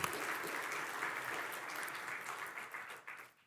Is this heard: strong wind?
no